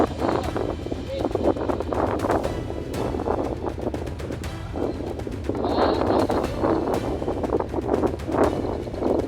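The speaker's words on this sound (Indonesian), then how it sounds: "Lewat tengah hari, tiupan angin pun semakin kencang." Strong wind buffets a fishing boat out at sea, a steady roaring rush with the sound of waves and hull, heard under ongoing talk.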